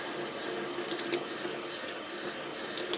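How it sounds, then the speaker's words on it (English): Tap water runs steadily onto ice-dyed fabric in a sink, a close, continuous splashing hiss with small spattering bursts and no talk over it. "So let's go ahead and put some water on this."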